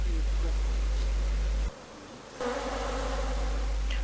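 Honey bees drone in a dense, continuous buzz around a hive during swarming season in Zambia's Copperbelt Province, loud and close, with a brief dip before the buzzing swells again.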